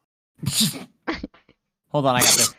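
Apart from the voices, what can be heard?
sneeze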